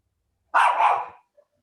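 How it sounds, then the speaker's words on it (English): A dog gives one loud, close bark, a single sharp burst standing out from silence before and after. "What's that noise? your dog"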